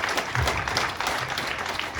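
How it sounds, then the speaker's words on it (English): A seated audience gives a short burst of steady, fairly close applause, even and continuous throughout with no voices on top. "one that I think deserves some applause"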